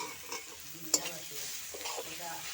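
Chilli, cumin and coriander powder masala being sautéed in a pan makes a soft, continuous sizzle, with quiet stirring scrapes and one sharp clink of the spoon partway through.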